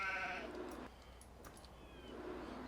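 A sheep in the Farming Simulator 17 game gives a brief bleat at the start, over a steady low ambient bed of game background noise that continues afterward.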